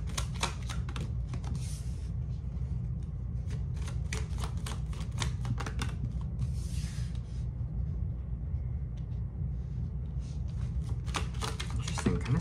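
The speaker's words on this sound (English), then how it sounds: "Just pulling some cards for you here." Tarot cards being shuffled and pulled from the deck produce rapid papery riffles and flicking bursts, close and fairly loud, in several quick clusters over a steady low background.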